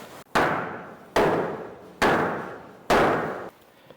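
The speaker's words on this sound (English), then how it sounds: "can I have the sledgehammer again?" Four heavy sledgehammer blows land at a steady, slow pace about a second apart, each a loud close impact with a ringing decay, on a homestead building job.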